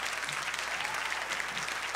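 An audience claps at a storytelling event, a steady wash of applause holding at even strength for a couple of seconds with no voices above it.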